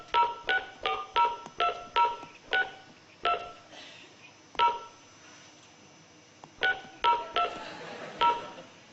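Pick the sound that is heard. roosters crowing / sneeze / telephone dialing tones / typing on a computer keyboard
telephone dialing tones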